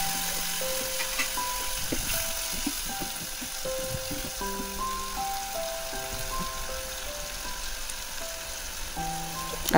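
Tomato sizzling in hot oil with a tempering of mustard seeds and a dried red chili split in two, a steady close frying hiss with a few faint pops and no talking.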